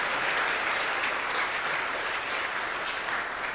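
A church congregation at a Christmas service gives sustained welcoming applause for first-time visitors, a dense, steady wash of many hands clapping without a break.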